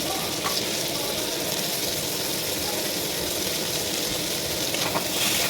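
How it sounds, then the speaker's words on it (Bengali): Chopped tomatoes fry with prawn curry in a pan, a steady loud sizzle and crackle with a faint stirring scrape now and then, and no talk over it. "এর মধ্যে কেটে রাখা টমেটোগুলো দিয়ে দিচ্ছি"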